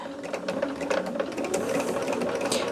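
Sewing machine running steadily as it stitches a quarter-inch quilt seam, a close, continuous rapid whirring hum with fast mechanical clicking throughout, no voices.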